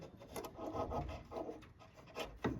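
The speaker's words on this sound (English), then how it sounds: "pull the C-clip out like this, and then you can get the assembly off." A screwdriver pries and scrapes at a C-clip on the tailgate shock support of a 2007-2013 Toyota Tundra, giving faint, close, scratchy rubbing strokes in short bursts.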